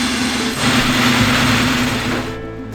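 A loud, close engine in a chassis-swapped Mustang roars steadily with the harsh hissing rush of a blow-off valve, then eases off near the end.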